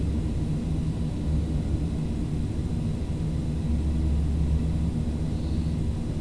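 A steady, droning engine roar from a Fokker 50 turboprop airliner taking off in a flight simulator, a constant low rumble with a faint hiss that holds at an even level throughout.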